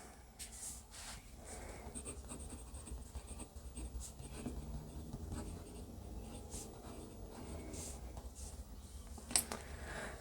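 A Jinhao 88 fountain pen writing on Rhodia paper gives a steady, faint nib scratch with small strokes and pauses, and one sharper tap near the end.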